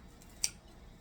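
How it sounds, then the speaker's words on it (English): A single short, crisp snip of scissors cutting through a pork cutlet, quiet and isolated. "I'll just cut it in half, or scissor it in half."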